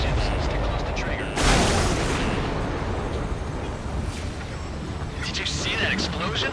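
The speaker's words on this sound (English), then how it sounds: "Did you see that explosion? Looks like that's one of them down." A supply ship blows up in the flight combat video game Ace Combat 7, a heavy booming blast that bursts out and then rumbles away under steady engine roar and battle noise.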